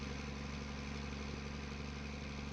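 Old Versatile articulated farm tractor with its engine running, a steady low droning rumble at constant speed, heard alone and fairly quiet.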